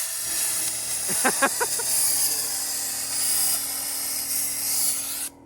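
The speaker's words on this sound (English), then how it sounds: "so we're sandblasting the weld." Sandblasting a weld on a Celica car body during a pro-touring build, a continuous loud hiss of abrasive blast running throughout, with a brief voice and a few clanks partway and an abrupt cutoff at the end.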